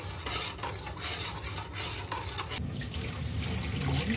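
Water and coconut milk sloshing and swirling in a pot as they are stirred while cooking puto maya, with faint clinks of a utensil, close by and steady, no voices.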